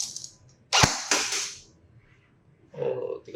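A single sharp shot from a JINGJI MAXIM converted gel blaster AEG during an FPS test, a loud crack with a brief hissy tail, followed by a mechanical whir and faint background noises.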